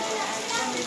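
Heavy rain pouring during a Ganesh immersion festival, a dense, steady hissing roar that fills the whole moment without a break.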